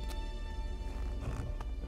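A horse in the video game Elex moves with faint, scattered hoof clops and thumps against low background noise. No voices are heard.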